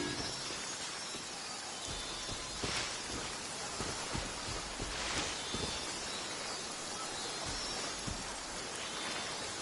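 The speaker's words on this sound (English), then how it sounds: "If this rain keeps up" Steady rain in the video game Genshin Impact patters continuously with dense, even hiss and scattered droplet taps, moderately loud and close, with no talking.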